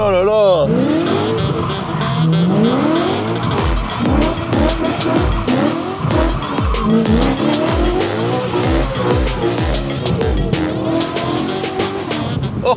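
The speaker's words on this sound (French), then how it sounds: "Faire que d'ouvrir les valves et d'écouter la petite admission." A car engine roars loudly with its exhaust valves open, revving up and down repeatedly with rising and falling pitch, close and continuous, while a person's voice is heard briefly.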